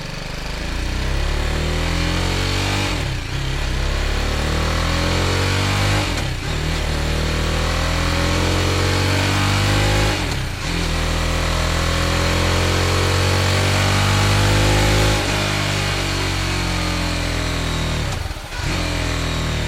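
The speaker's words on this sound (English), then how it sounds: "I thought the exhaust was actually pretty good." BMW G310R 313cc single-cylinder motorcycle exhaust, loud and close, revving up and down repeatedly in long sweeps with brief drops back to idle between pulls, and no voices.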